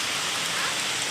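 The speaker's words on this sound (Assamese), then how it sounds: "বৰষুণ কমিছে" Rain pouring down on a rainy day, a dense, loud and even hiss of drops close by that holds steady throughout the short stretch.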